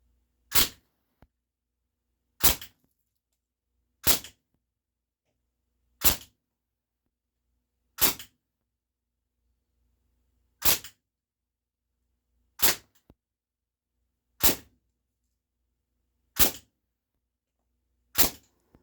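A KWC full metal Mini UZI CO2 BB gun fires on semi-auto, about ten sharp single pops spaced roughly two seconds apart, loud and clear with near silence between shots.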